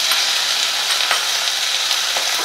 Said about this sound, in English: We need to fry it.